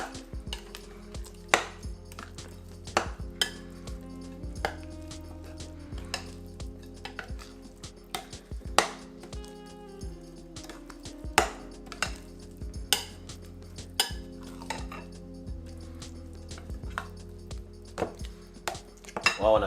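Sweet potato pudding batter with coconut milk being mixed in a bowl, a steady run of clinks and scrapes from a utensil against the dish, close and moderately loud, with no voices.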